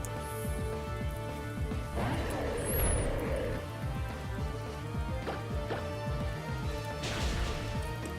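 A Brick Break attack smashing a wall in Pokémon Omega Ruby/Alpha Sapphire, heard as a short crunching impact burst around the middle and another near the end, over steady game music.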